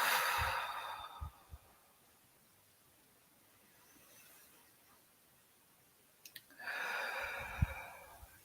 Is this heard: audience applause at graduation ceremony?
no